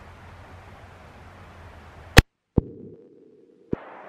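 A single sharp, loud gunshot from a lever-action .45-70 rifle firing a hot 405-grain load, followed by a brief low ringing tail and a couple of quieter clicks.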